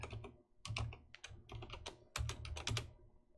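Code is typed on a computer keyboard at close range: quick clusters of crisp key clicks in uneven bursts, with short pauses between words and no talking.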